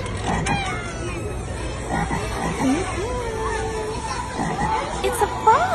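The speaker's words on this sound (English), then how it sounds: "It's a frog." A frog croaking in the jungle during a children's action song, a few warbling croaks close by, mixed with children's voices and background chatter.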